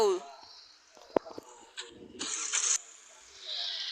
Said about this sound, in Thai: อย่าบอกนะว่ารถสตาร์ไม่ติดอ่ะ สตาร์ติดปะเนี่ย